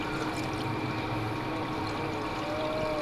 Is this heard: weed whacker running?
no